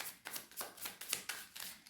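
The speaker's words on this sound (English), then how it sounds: "Okay, so we'll just get a good shuffle in." A deck of tarot cards being shuffled up close, with quiet rhythmic riffling bursts repeating about every quarter second in a soft, otherwise still room.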